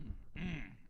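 A single short throat clearing close to the microphone in a radio studio, a brief rough rasp lasting under a second against quiet background.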